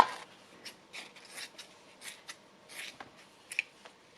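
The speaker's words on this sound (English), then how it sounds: "Just cut some pieces," Scissors snip through fabric pieces in a series of soft, close, irregular cuts with short pauses between them.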